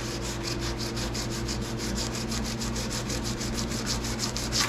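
Steady hand sanding with 400-grit paper on a 1990 Ford F350 truck door, a rhythmic back-and-forth rasp on a hard surface, close up and continuous with no talking.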